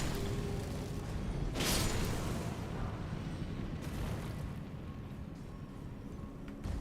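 Trash collectors empty a dumpster, sending a heavy distant boom and a later softer bang through a steady low rumble of background noise.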